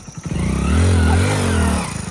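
A motorcycle engine revs up close and loud, the pitch climbing and holding before easing back down, with no talk over it.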